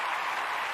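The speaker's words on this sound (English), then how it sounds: "a round of applause" A crowd applauds at a live comedy show: a short, steady wash of clapping from many hands, even and dense, heard at moderate distance without distinct individual claps.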